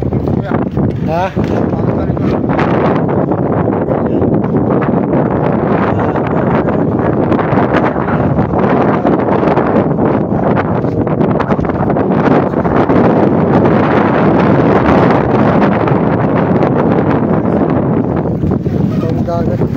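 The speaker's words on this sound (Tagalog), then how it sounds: "Sarap, hangin dito guys, oh." Strong seaside wind buffets the microphone along the shore at Busali, Biliran, a continuous loud roaring rush with gusty swells and faint water sounds beneath.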